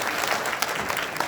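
An audience at a university entrance ceremony in Incheon claps in a brief, dense burst of applause, steady and fairly loud throughout.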